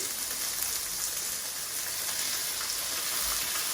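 Onion, garlic and bean seeds fry in a pan, giving a steady, even sizzling hiss at moderate level with no talking.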